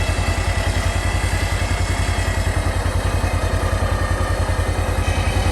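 A WARN Axon winch motor runs steadily, a loud close mechanical drone with a fast, even low-pitched pulsing beat and a rough whirring texture throughout, no voices over it.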